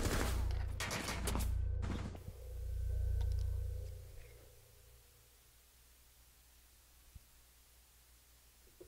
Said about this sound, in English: Just shot him through the wall.